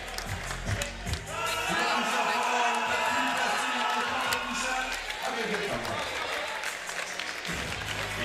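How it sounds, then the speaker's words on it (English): Arena crowd at a 3x3 basketball Europe Cup final applauds and cheers in a sustained wash of clapping and voices that swells and fades, with an announcer's voice over it. "Lietuva getting some love from the crowd here"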